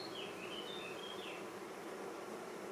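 Honeybees buzz steadily around an open beehive during an inspection, a continuous, even drone with a few higher whining passes as individual bees fly near, with no voices.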